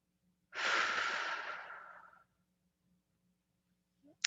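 One deep exhaled breath during a guided meditation, a long airy sigh that fades out over about two seconds, followed by near silence in a quiet room.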